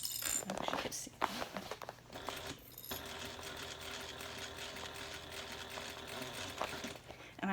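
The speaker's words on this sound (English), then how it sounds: "And I am sewing so that my black vinyl is on top and the pink vinyl is on the bottom." Sewing machine stitching black vinyl over pink vinyl, a quiet steady mechanical whir running for several seconds after some handling noises, heard faintly and close.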